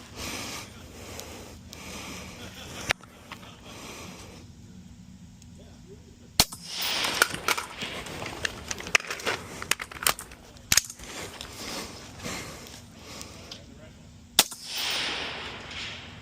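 Gunshots are fired at targets on a stage of a practical shooting match. A few sharp, isolated cracks come several seconds apart, with heavy breathing and movement between them.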